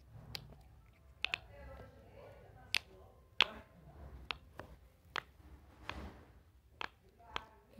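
Squeezing a homemade pop it fidget toy, giving a series of sharp, close popping clicks at an irregular pace over a quiet background.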